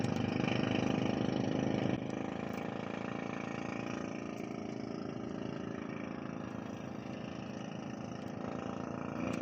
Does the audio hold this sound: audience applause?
no